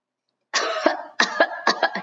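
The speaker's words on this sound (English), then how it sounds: "He coughed again." A rough, throaty cough followed by several more short coughs and throat clearings, close and loud, with silence before it starts.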